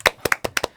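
A small group claps rhythmically for a guitar performance at an indoor music retreat, with close, crisp hand claps in quick succession.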